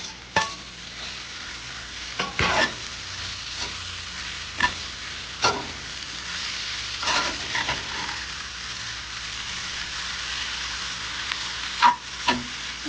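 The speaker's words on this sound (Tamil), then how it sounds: "இப்போ கழுவி வச்ச மீனை போடணும். வச்சு கொஞ்சம் ஒரு 10 நிமிஷம் வேகணும்." Shrimp sizzles steadily in a pan, with occasional scraping stirs and sharp utensil clicks over a constant frying hiss.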